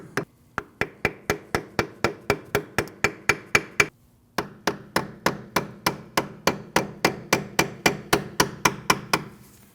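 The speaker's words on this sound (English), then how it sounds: "If you just take a punch or a small screwdriver, tap it underneath, see if you can get it to move." A punch or small screwdriver is tapped against a stuck front ABS sensor on a 2012-2016 Honda CR-V, producing about thirty sharp, evenly spaced metallic hammer taps with one short pause midway.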